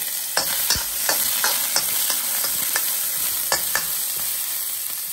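Finely chopped carrots and bell pepper sizzle over low heat in a pan, a steady frying hiss broken by a series of crisp spatula clacks and scrapes, with no speech.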